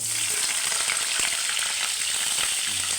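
Chopped onions sizzle steadily in hot oil in a home kitchen pan, a dense continuous crackle close by with no voices.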